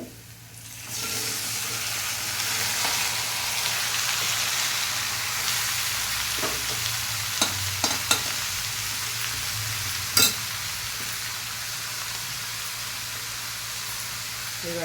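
Ridge gourd pieces sizzle steadily in a frying pan, a loud continuous hiss that begins after a second and carries on with a few faint clinks of stirring, with no talk.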